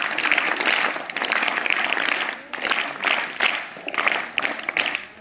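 Applause from a room of school students in 8th and 9th grade at a school assembly, steady dense clapping that swells in several bursts over about five seconds.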